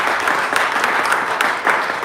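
Audience applause at a congressional district debate, sustained clapping from a crowd with a few sharper claps standing out, steady and fairly loud.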